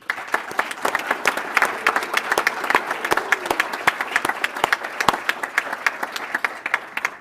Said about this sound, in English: Please join me in giving them applause